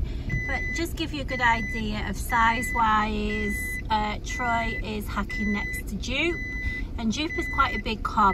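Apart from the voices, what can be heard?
car seatbelt warning beeping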